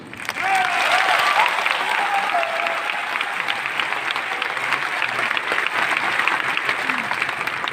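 Audience applause at a product launch, a steady dense clapping that starts abruptly and holds evenly at moderate loudness for several seconds, with a voice faintly audible beneath it.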